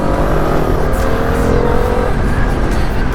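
CFMoto 450MT adventure motorcycle revving and pulling hard on the road, a loud continuous engine roar with rising pitch and wind noise, heard up close from the rider's position.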